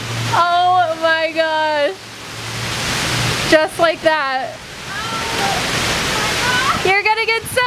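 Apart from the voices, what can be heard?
heavy pouring rain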